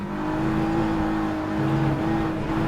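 A GT3 race car engine in the racing game rFactor 2 at the Hungaroring drones steadily at high revs, a continuous whining roar with a slight pitch change partway through and no speech.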